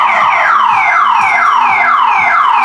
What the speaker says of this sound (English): single tap will set off the alarm in full.